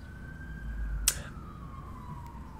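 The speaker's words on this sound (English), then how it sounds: "it's just this really like 10-second thing of a siren" Distant siren wails in a long, slowly falling tone, steady and faint, with a brief click partway through and no talk over it.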